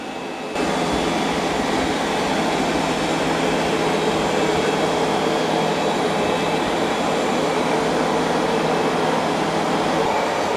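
Roborock S8 Pro Ultra and iRobot Roomba j9+ robot vacuum-mops running indoors, a steady loud whirring hum with a continuous broadband motor drone that holds evenly throughout after a brief quieter start.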